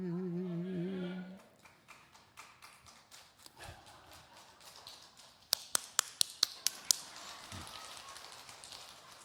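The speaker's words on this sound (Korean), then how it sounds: "박수 친 사람은 복 받을 거라고 얘기하려고 제가 쳤어요" A single person's hand claps in a church during a sermon, a short run of sharp, evenly spaced claps ringing out after quiet tapping and a brief sung note at the start.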